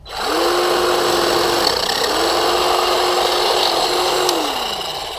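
Black & Decker 40V MAX lithium hedge trimmer running and cutting into branches, a loud continuous buzzing whir with a steady hum that dips briefly midway, close up with no talk.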